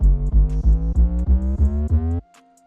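Distorted 808 bass playing a rapid run of about eight pulsing notes that step upward in pitch under pitch automation in FL Studio, then stopping sharply, leaving a quiet tail.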